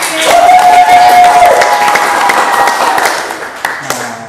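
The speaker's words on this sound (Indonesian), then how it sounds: "Gimana tepuk tangannya yang nonton?" Audience applause at a Universitas Terbuka Disporseni arts event, a moderate wash of clapping lasting several seconds with a brief tonal note near the start, fading slightly toward the end.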